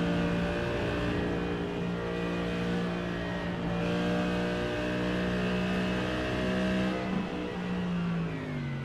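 A Mercedes GT race car at the Bathurst 12 Hours roars steadily through the downhill S's, its engine note loud and sustained with a dense whine, heard alone with no voices.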